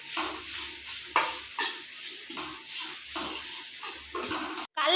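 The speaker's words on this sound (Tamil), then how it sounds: "எண்ணெய் ஊற்றி துருவி தேங்காவை கொட்டிக்கலாம்." Grated coconut fried in oil in a pan, a steady sizzle broken by repeated scraping stirs of a spoon against the metal, close and fairly loud, ending with a brief clatter.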